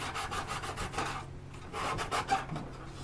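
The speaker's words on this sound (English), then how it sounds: "this is 220 wet or dry sandpaper. It does a pretty good job of prepping the metal for a solder repair like this." Metal on a Dietz No. 25 side lamp being sanded with 220-grit wet-or-dry sandpaper to prep it for solder, a steady rasping rub in repeated strokes, close and moderately loud with no talk.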